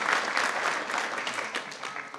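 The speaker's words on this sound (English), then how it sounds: "let's give them a round of applause" Applause from the audience at a school board meeting, a steady wash of many hands clapping at fairly close range for about two seconds.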